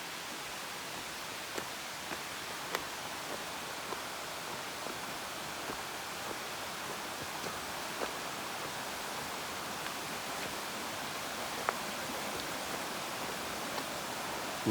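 Steady broadband rush of water tumbling over rocks beside an Appalachian Trail path, a continuous hissing roar with a few faint clicks, heard alone with no voices.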